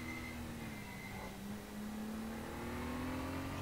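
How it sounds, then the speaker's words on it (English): A race car in RaceRoom Racing Experience runs out of fuel at the end of a race, its engine droning steadily with a wavering, uneven pitch under constant track noise. "I made it at the end of the race with 0 fuel on the counter and the car stuttering"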